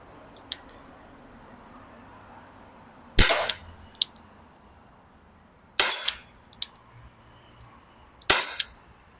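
Three sharp pops from a Tanaka Colt Python .357 Magnum R-Model 6-inch heavy weight gas airsoft revolver, spaced about two and a half seconds apart, each followed by a brief hiss, with faint clicks between shots outdoors.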